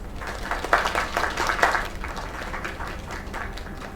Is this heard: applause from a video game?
yes